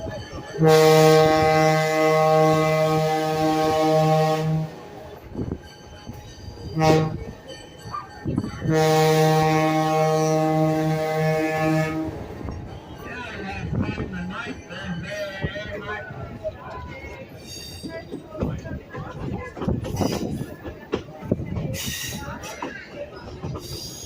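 A heritage train of the South Simcoe Railway in Tottenham, Ontario passes close by a crossing, its horn sounding two long blasts, followed by rumbling wheels and clatter on the tracks.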